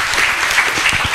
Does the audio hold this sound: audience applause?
yes